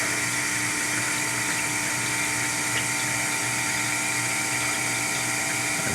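A KitchenAid dishwasher running and filling with water through its water valve, a loud continuous rushing and pumping hum with a steady whine, alone and unchanging.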